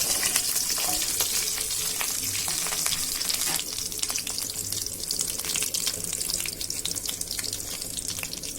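Small onions fry in oil for Kerala-style ulli theeyal, producing a loud, dense, crackling sizzle that spits and pops continuously at close range with no voices.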